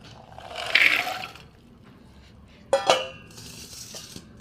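Water poured into a pressure cooker holding boiled peas and peeled potatoes, a hollow rushing splash in two short bursts separated by a quiet gap, close by with no talk.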